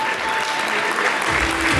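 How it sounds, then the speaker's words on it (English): Wedding guests applauding at a reception in a hotel ballroom, a dense, steady burst of clapping from a crowd, with a faint musical tone underneath. "Give yourselves another big round of applause for coming out here to celebrate with Amanda and Kyle."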